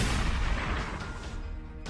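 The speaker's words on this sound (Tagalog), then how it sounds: "Nang nasa harap na nila ang aso, ay nagpaputok ng baril si Baldo." A single loud gunshot booms out in a dramatized Filipino horror audio story, a broad blast with a rumbling tail that fades over about two seconds, with no voices over it.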